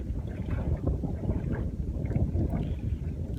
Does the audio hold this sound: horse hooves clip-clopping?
no